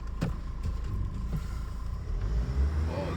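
A manual diesel Mercedes pulls away on a Serbian village road, its low engine rumble steady and close, swelling slightly as it moves off.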